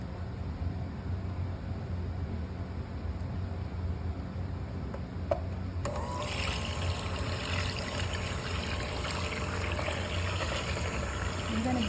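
Vanilla extract poured into a homemade ice cream mixture: a low steady background hum, then a brighter, hissing liquid trickle that starts about halfway through and continues to the end, with no talking.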